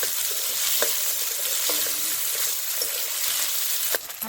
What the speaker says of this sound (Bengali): ভালো করে ভাজিয়ে নেবো তেল দিয়ে ভাতটা।